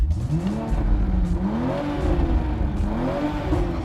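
A new Toyota Supra's engine revs loudly and continuously in sport mode, with a deep, throaty exhaust rising and falling in pitch as the throttle is worked.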